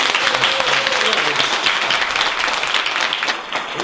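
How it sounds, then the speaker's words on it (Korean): Congregation applause at a church seminar celebration, loud continuous clapping from a large crowd filling the whole stretch with no break. "박수 치려면 뭐든 적당히 하지 마시고 확실하지"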